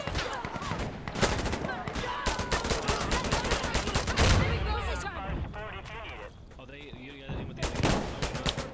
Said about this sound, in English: Oh, I'm getting shot at down the road.